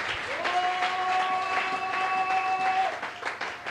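Church congregation applauding, a steady wash of many hands clapping together at close range, with a sustained tone ringing through the middle and a few voices underneath.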